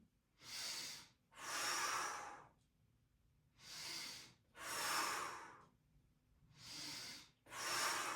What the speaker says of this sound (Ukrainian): Тепер вдихнули, видихнули